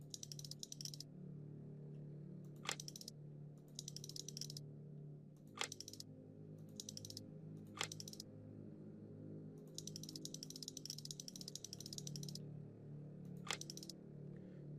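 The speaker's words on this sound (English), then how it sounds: "Okay, so that's just clicking." A safe's mechanism in The Last Door video game gives faint, bursty clicking in short runs, with a few sharper isolated clicks set over a quiet low hum.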